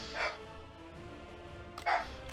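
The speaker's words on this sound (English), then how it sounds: "Apologies for my dog in the background." A pet dog barks in the background, two short muffled barks about a second and a half apart, faint and distant over a quiet room hum.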